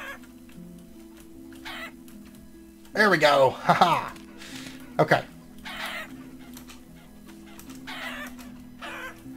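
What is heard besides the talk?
chickens clucking in the video game Vintage Story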